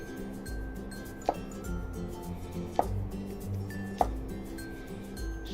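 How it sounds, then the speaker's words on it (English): A knife slicing string beans at an angle on a cutting board for a Mediterranean quinoa salad, three sharp separate chops spaced about a second and a half apart over a low background hum. "Just cut them at an angle like that so they'll cook faster."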